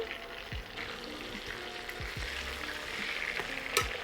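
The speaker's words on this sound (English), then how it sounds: "So you got this bubbling going on, just beautiful." Chicken cutlets for chicken parmigiana fry in bubbling butter in a pan, a quiet continuous sizzle with soft popping and occasional light clicks, close but low in level.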